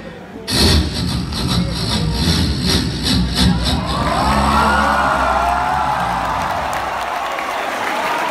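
A performer's voice imitates an old motorcycle sputtering as it tries to start again, with a rising engine-like whine, heard on stage at a college mimicry show over steady applause and crowd noise.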